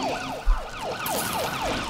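An ambulance siren in a zombies video game wails in rapid repeating up-and-down sweeps, moderately loud and steady, with a brief low thump near the start and no talk.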